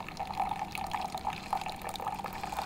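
A Keurig coffee maker splashes and drips water while brewing, a soft, close, continuous liquid patter with small bubbling bursts.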